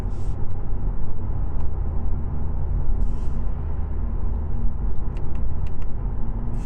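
A BMW M140i driving, a steady low engine and road rumble running continuously at moderate loudness, with brief faint ticks and clicks scattered through.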